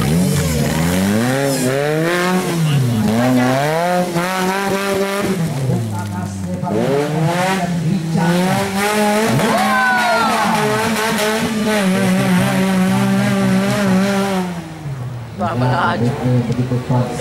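A 2,200 cc off-road race car screams through an extreme off-road competition course, its engine revving hard with rising and falling pitch as gears shift, loud and close, while an announcer's voice talks over it continuously.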